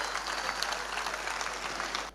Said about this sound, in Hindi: इन सारी जबानों के लिए मैं चाहता हूं आप सबके सब तालियां बजाएं